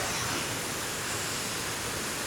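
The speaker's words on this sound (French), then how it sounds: "on est arrivé à la cascade du bout du monde" Waterfall at the Cascade du Bout du Monde, source of the Gifre river in the Alps, heard close as a steady, loud broadband roar that fills the space without pause.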